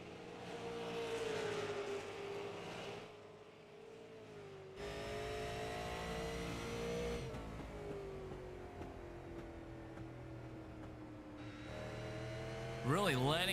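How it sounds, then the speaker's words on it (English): A race car engine revs and drones on track during the Franchise Card Company 125, its pitch rising and falling steadily throughout, with a commentator talking over it and a sharper rising whine near the end. "Really letting that car roll, Eli is, before he gets back onto the gas."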